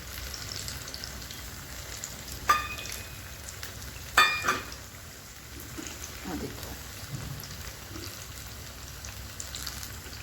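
Potato, onion and spinach pakoras fry in oil over a lowered gas flame, giving a steady, soft, rain-like crackle with a couple of sharper pops, close but quiet.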